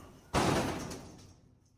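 A door is banged hard enough to break it: a single loud, close slam or bash that rings out and slowly decays into quiet, with no voices.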